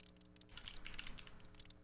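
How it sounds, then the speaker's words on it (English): Quiet typing on a computer keyboard: a quick run of soft, light key clicks over a low hum, close and faint, with no talking. "That is exactly what she's typing right now."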